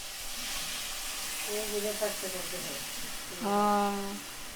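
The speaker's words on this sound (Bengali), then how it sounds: "মাছ ভেজে তার মধ্যে সরিষার জল দিয়ে দিল" Fish frying in a wok as mustard water is added, a steady hissing sizzle running throughout, with tonal voice-like sounds rising over it twice.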